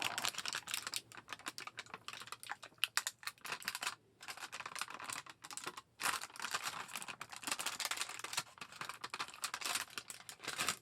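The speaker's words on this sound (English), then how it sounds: "we're just going to peel this off" Plastic cover peeled off a bowl of gummy candies, a long, close crinkling and crackling of film with steady bright texture and short pauses, no talking.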